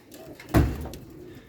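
Pigeons in a loft, three weeks after vaccination, giving a single short low coo up close, with faint rustling around it.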